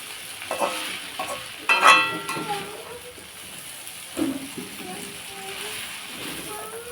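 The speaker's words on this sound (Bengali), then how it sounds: "সব পাস্তাগুলো দিয়ে আমি ভালো করে এবারে ভেজে নেব" Pasta frying in a pan at home, with spoon stirs and scraping through a steady sizzle, a few louder clatters near the start, and a voice speaking in the background.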